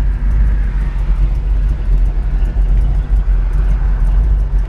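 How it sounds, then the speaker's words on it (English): A 1971 Plymouth Roadrunner with a 440 six-pack idles with a steady low rumble and a faint whine from its Dana rear axle running continuously underneath. "You can hear that Dana whining a little bit."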